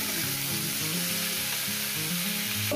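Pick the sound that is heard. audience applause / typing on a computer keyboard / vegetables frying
vegetables frying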